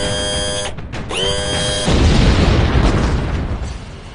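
A bomb blast at the Jammu bus stand, set off by a grenade hidden under biryani in a tiffin box. A steady tone gives way to a sudden loud, broad roaring burst that rumbles on and slowly fades.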